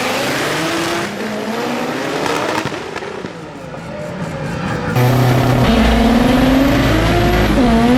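A front-wheel-drive race car on a qualifying pass, its engine revving hard and loud with crackling pops, a brief dip, then a surge into a steady high-pitched drone up close.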